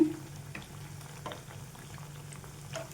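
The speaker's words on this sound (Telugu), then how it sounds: "రెండు వైపులు కూడా ఈ విధంగా తిప్పుకుంటూ వేయించుకోండి." Malpuri puris deep-fry in a pan of oil, giving a soft, low bubbling sizzle with a few faint clicks as they are turned, quiet and continuous with no talking.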